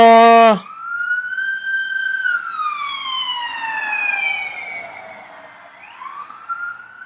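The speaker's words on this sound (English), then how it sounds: "Sorry about all the sirens." A loud wailing siren sweeps down and rises again, continuous over several seconds, with a second siren layered in and a faint voice underneath.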